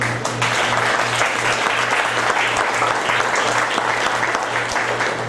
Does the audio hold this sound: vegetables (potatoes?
no